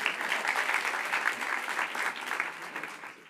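A school-show audience claps together in a dense, steady wash of applause that holds for about three seconds, then thins slightly at the end.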